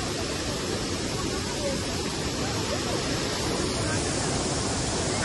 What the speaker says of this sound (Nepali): झरना आइपुग्यो